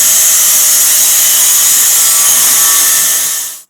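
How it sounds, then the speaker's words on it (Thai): A metal tool cuts and files a pickup truck's cab during seat belt installation, giving a loud, close, continuous bright rasping grind that holds steady for several seconds before cutting off abruptly. "ผมก็ตัดใหม่แล้วก็เอาตะไบเก็บงานเป็นที่เรียบร้อยครับ"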